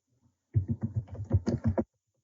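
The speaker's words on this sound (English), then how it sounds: "Sorry, I'm typing." Computer keyboard typing: a close, quick burst of about ten or eleven keystrokes in an uneven rhythm, standing alone in an otherwise quiet room.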